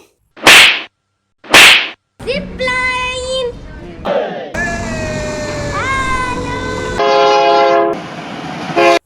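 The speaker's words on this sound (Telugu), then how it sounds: "ఈ బొమ్మల ట్రైన్ మాత్రం భలేగా ఉంది" At an amusement park, two sharp whip-like cracks are followed by loud, sustained toy train horn tones and electronic whistles, blaring close by in a continuous sequence.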